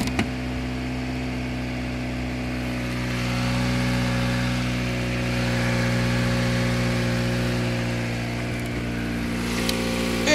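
A 2008 Toyota Matrix with a 1.8 liter inline four-cylinder engine idles after a cold start, giving a steady, even hum heard up close with no talk over it.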